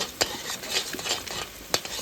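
Onion and two eggs being stirred as they fry in a pan, a soft scraping and pattering with a couple of sharper utensil knocks against the pan, close and steady over about two seconds with no talk.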